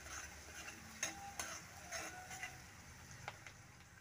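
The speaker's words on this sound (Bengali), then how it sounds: "এবার পেঁয়াজ আর রসুনটাকে ভালো করে ভেজে নেব।" Chopped onion, green chili and crushed garlic fry in a pan with a soft, steady sizzle, while a spoon stirs and scrapes in quick, faint clicks.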